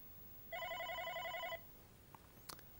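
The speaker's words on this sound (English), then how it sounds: "simply wait for the context menu to appear as soon as the phone starts ringing" An OpenStage 60 SIP desk phone rings once for an incoming call, a single clear electronic warbling burst of about a second, followed by a couple of faint clicks in a quiet room.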